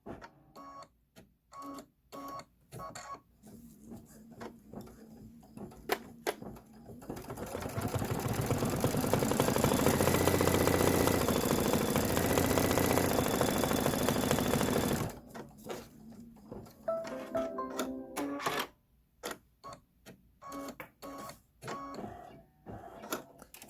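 A sewing machine fitted with an 80-12 needle stitches a bench pillow square, a steady rapid mechanical whir for about eight seconds, with scattered clicks and handling sounds before and after.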